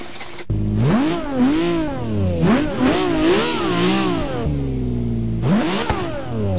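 A 1967 car in Forza Motorsport 6 revs repeatedly in sharp rising and falling bursts, with a short idle between throttle blips, loud and close with no voices.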